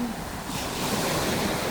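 Sea waves washing onto a beach at sunset, a continuous broadband rush of surf that swells slightly louder midway, steady and close with wind in the background.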